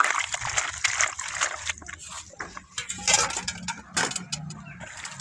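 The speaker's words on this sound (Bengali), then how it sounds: "জল দিয়ে দিচ্ছি, দুবার তিনবার পরিষ্কার করে ধুয়ে নেব।" Cut jute leaves being washed by hand in water make irregular splashes, trickles and sloshing at close range, with soft background sounds and no clear speech.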